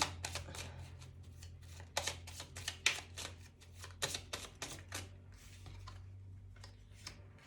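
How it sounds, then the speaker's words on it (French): Tarot cards shuffled and laid down on a table for a reading, a run of close, crisp slaps and flicks of card stock in quick irregular bursts over a low steady hum. "Je vais juste prendre quelques cartes là pour recouvrir ici."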